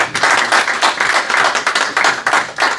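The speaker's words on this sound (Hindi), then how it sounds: "अंजुम साहब के लिए भरपूर तालियां बजाइएगा।" An audience at a mushaira poetry gathering in Ealing claps for the poet Anjum Barabankvi, a loud, dense burst of hand claps pulsing steadily and close throughout.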